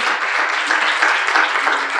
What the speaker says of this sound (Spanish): Dele un fuerte aplauso a ese Dios de poder